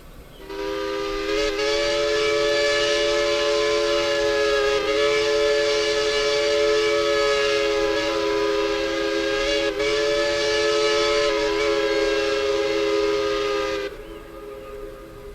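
A steam locomotive whistle from the Century of Steam railway game sounds as one long, loud, steady chime-like blast of about twelve seconds. It is alone and ends abruptly near the close of the clip.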